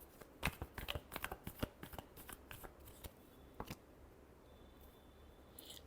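Tarot cards being shuffled by hand, a quick run of crisp riffling bursts up close that thins into softer rustling toward the end, with no talking.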